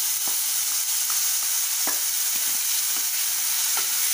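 Ginger garlic paste fries in a pan with a steady broadband sizzle, and spoon or spatula taps and scrapes come at irregular intervals on top. The frying sounds close and moderately loud, and no one speaks.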